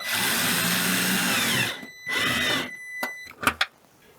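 Power drill driving screws into the back cover of a Ford C-Max, a close, loud whirring motor run that stops, then restarts briefly before a few short bursts and clicks.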